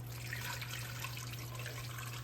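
Water being poured into a simmer pot in a home kitchen, a soft continuous splashing trickle over a low steady hum, faint and close, with no talk.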